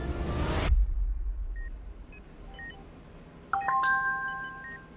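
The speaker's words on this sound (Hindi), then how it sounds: "राजा का मैसेज" A phone's message notification chimes with a short cluster of bright electronic tones after a loud burst fades out, sounding close and moderately loud over a faint hiss.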